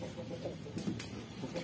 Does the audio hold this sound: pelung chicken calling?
yes